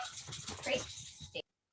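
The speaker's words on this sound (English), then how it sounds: "I hear a dog." A dog whimpers and gives a few short barks somewhere in a home, moderately loud, with faint voices mixed in before a brief silence and a final sharp yelp.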